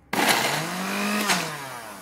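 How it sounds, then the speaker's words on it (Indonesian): A blender blending chili sambal whirs to life abruptly, motor pitch rising then easing slightly as it runs steadily for a couple of seconds. "jadi kita blender secara perlahan-lahan"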